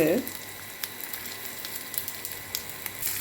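Shallots, tamarind, dried red chilies, urad dal, garlic and sesame sautéing in a pan for thuthuvalai chutney give a soft, continuous crackling sizzle with scattered pops, after a brief voice at the very start.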